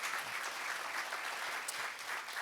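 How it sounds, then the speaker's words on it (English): Audience at a legislative meet-and-greet event applauding, a soft, dense, even wash of many hands clapping at a distance. "So let's give her a great big round of applause."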